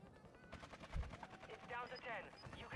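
Rapid bursts of video game gunfire crackle in quick succession, mixed with game effects and players talking over them.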